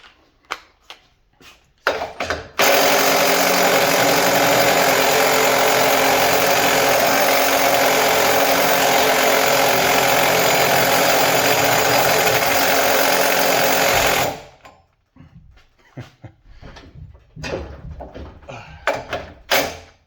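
Snap-on 14.4 V 3/8-inch cordless impact wrench runs in one long, loud, continuous hammering burst of about twelve seconds, preceded and followed by short clicks and knocks of handling.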